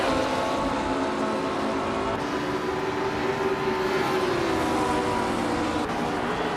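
1962 Lotus 2.5 race car engine in a racing video game: a steady, droning engine tone with slowly shifting pitch, continuous and fairly loud throughout, with no voices.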